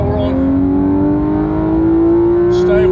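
Race car accelerating hard out of Luffield corner, engine note climbing steadily and loud, close and continuous with a rising whine throughout.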